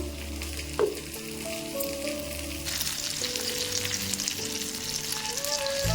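Fish cooks in a simmering masala fish curry (kuzhambu), giving a continuous bubbling sizzle close by, with a low steady hum underneath and a brighter rush of frying noise partway through.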